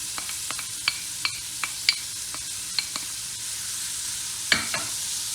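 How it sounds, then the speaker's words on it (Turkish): Diced dry onion and a garlic clove sauté in hot oil in a pan, giving a steady soft sizzle broken by repeated sharp clicks and scrapes of stirring. "Bu soğanlarını kavurmaya başlıyorum."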